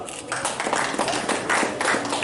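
Crowd clapping at an outdoor cycle rally reception for soldiers, a dense, steady patter of many hands held at a constant level for the whole stretch, with no voices standing out.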